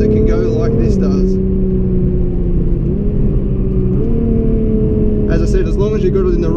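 A 2017 Nissan GT-R accelerates hard between corners on a coastal road, a steady engine drone climbing through gears with brief shift dips, under close talking at the start and end.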